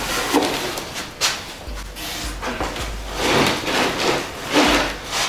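Cardboard packaging for a Gennie Shifter, a shifter kit for a 1955 Buick build, being opened, with repeated rubbing, scraping and tearing bursts at close range and no talk.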